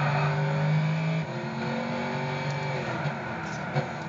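A Porsche race car in the video game Gran Turismo 6 drones at high revs, a loud, steady engine tone that shifts pitch partway through as it changes gear, ending with a brief sharp click.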